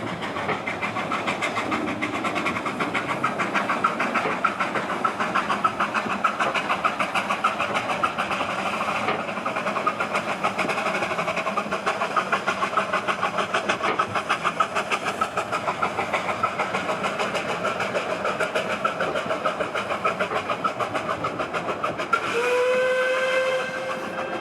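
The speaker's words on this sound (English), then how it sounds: "those little engines working like crazy to get you up the gradients" A small Welsh Highland Railway steam locomotive works hard up a gradient in the rain, its steady chuffing and hiss continuous and loud, then a long shrill whistle sounds near the end.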